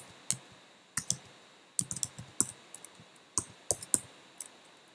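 Computer keyboard keys being typed while coding a Pong game, sparse sharp clicks coming singly and in short bursts at an irregular rhythm, close and fairly quiet, with no talking.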